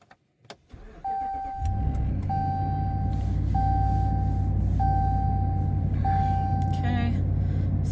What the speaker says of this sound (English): go ahead and start the vehicle up.